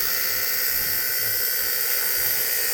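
A spiral mill cell crusher running with plastic parts turning on its rotor, a continuous high-pitched whirring drone that stays even and close throughout.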